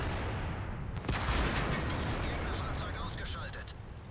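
A tank cannon firing an APCR round in World of Tanks, a single heavy boom followed by rolling echoes and debris crackle, set against continuous engine and battle noise.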